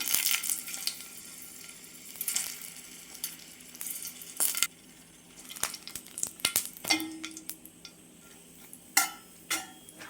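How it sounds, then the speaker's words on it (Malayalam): Dried red chillies fry in hot coconut oil for a quick chutney, crackling and popping in irregular bursts with sharp ticks and a spoon scraping the pan, close up and without speech. "ആ എണ്ണ ഒന്ന് ചൂടായി വരുമ്പോൾ വറ്റൽമുളക് ചേർത്ത് കൊടുക്കാം."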